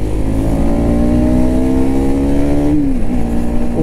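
A KTM Duke 390 motorcycle engine revs loudly and close, its pitch climbing steadily for a few seconds before dropping off sharply.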